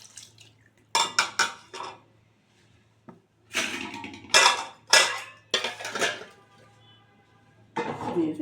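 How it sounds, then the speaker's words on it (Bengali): Pots and metal utensils clatter while lentils are added to a wok during cooking of musur dal chachhari, a Bengali red lentil dish; several sharp clinks and knocks come in bursts with pauses, close and fairly loud. "কড়াইতে চাপিয়ে দেবো"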